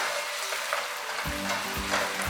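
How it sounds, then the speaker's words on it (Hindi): Chicken pieces with garlic and ginger frying for nihari, a steady crackling sizzle in the pan with a couple of low stirring scrapes partway through, close and loud with no voices. "चिकन जो है ना ब्राउन होना शुरू हो गया।"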